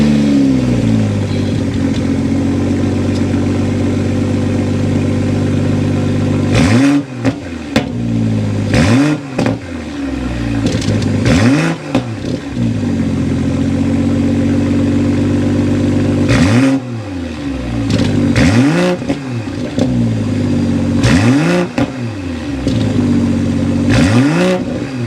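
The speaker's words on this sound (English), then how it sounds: "start it up so you can hear that exhaust note." A 2023 BMW M340i, started from inside the cabin, gives a steady engine drone broken by a string of sharp exhaust revs that climb and fall repeatedly, loud and close throughout.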